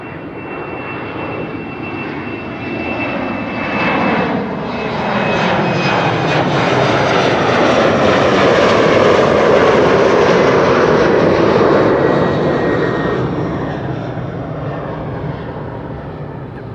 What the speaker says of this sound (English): This is KLM flight 1645 going to Genoa. An Embraer 190.